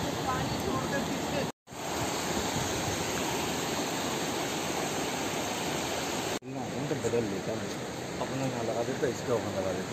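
A river flows past a camping spot near Anni in the Tirthan Valley of Himachal. The water makes a loud, continuous rushing roar close by, with two brief dropouts.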